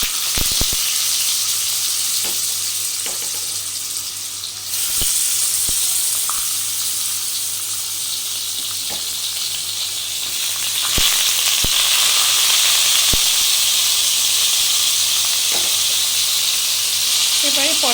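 Pointed gourd (potol) pieces frying in hot oil in a Bengali kitchen, a continuous close hiss and sizzle that swells as more pieces go in, with occasional small clicks and pops.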